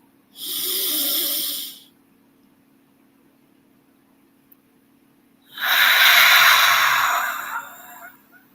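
Two deep, slow breaths during a breathing exercise: a shorter airy inhale, then after a pause a longer, louder exhale, heard close and alone.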